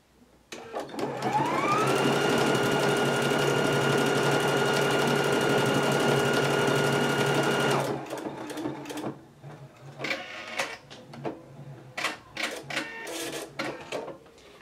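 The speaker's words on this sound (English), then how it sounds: "push my start and stop button and go ahead and sew the stitch" A Husqvarna Viking Epic 980Q sewing machine starts up and sews a test stitch at a steady, fast whir for several seconds, then stops, followed by a few scattered clicks and handling sounds.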